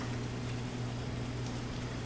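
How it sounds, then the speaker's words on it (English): A skin-side-down duck breast sizzles in a hot, lightly oiled pan, giving a steady, dense hiss and crackle close by with a low hum underneath and no pauses. "Start to hear that sizzle right away."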